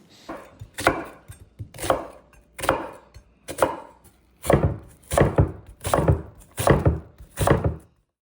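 Knife chopping half of a white onion on a board, about eleven firm thunks in a steady rhythm, with a short pause midway, loud and close with no talking.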